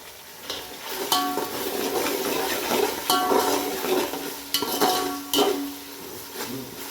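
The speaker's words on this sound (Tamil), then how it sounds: "தக்காளி நல்லா வதங்கட்டும்" Chopped tomatoes sautéing in a pan for kichdi, a soft steady sizzle broken by clinks and scrapes of a spoon stirring against the pot, close and clear with no talk.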